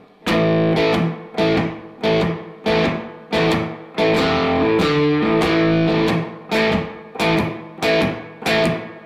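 Loud, crunchy electric guitar chugs through a blues shuffle, repeated chord stabs in a steady swinging pattern with brief gaps between bursts.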